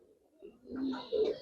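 A racing pigeon coos close by in a short, soft, low burble that rises in two quick swells, with no voices.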